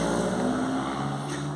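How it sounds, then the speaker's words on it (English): A car with a loud, worn exhaust passes nearby, giving a steady low droning rumble that holds evenly for a moment without any speech. "Somebody needs a new exhaust"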